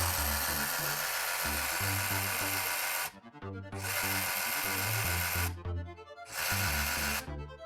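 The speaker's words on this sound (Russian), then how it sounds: "Так отщелкивается, и пила начинает работать." Cordless saber saw running with its blade reciprocating, a steady buzzing whine in three sustained bursts separated by brief pauses, close and loud with no talk.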